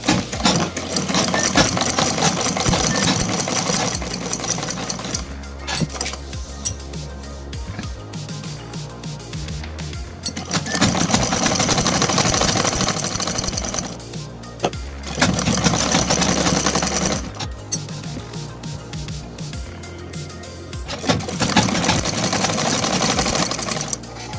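A sewing machine stitches the neckline of a kurta in long, loud mechanical runs, its rapid needle rattle stopping and restarting in several bursts with short pauses between.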